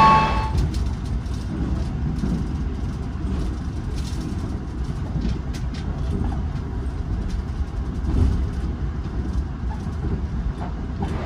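Inside a Malabar passenger train made up of 13 premium K317 mild-steel coaches plus a dining car and a generator car: a steady, loud low rumble of wheels and carriage running continuously, with no voices.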